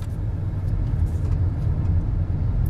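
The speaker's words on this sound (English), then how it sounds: "I think I'll just drive right through town here" A car drives through a small Montana town, heard from inside as a steady low engine and road rumble, close and even for the short stretch.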